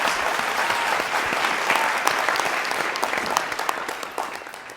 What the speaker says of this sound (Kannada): ಬಲಿ ಜೋರಾದ ಚಪ್ಪಾಳೆ